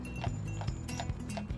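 Clydesdale horse hooves clip-clop in a steady rhythm of four to five distinct strikes, close and clear, with no voices over them.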